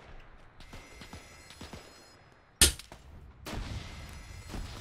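A single sharp, loud Springfield rifle shot rings out in a World War II battle in ArmA 3. It cuts through quiet ambient noise and leaves a brief echoing tail, followed by rising background rumble.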